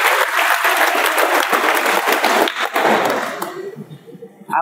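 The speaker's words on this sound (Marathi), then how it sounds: "टाळ्या वाजवा" A school audience bursts into loud, dense applause, many hands clapping steadily for a few seconds before the sound thins and tails off.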